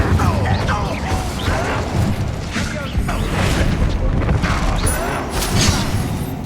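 A fire spell cast during a dungeon fight in Hogwarts Legacy, with bursting, booming impacts and mechanical clatter amid dense combat noise and character voices.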